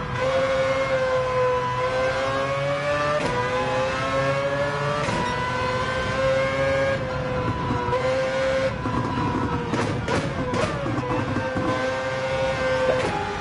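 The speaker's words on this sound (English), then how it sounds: "The thing kind of sounds like a hyperactive miniature F1 car." A high-revving race car engine in Gran Turismo 7 whines steadily, pitch climbing and dropping with gear shifts, loud and close throughout.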